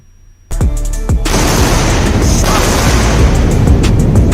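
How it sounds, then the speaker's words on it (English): Two sharp sonic booms crack out from a played recording, the second following about half a second after the first, then a loud, sustained roaring rumble carries on. "Double sonic booms."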